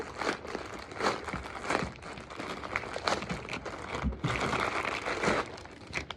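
Plastic packaging of milk storage bags crinkles and crackles in irregular bursts as it is opened by hand, close and continuous with no talking.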